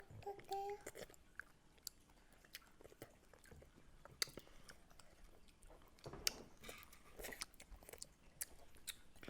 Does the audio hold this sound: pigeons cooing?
no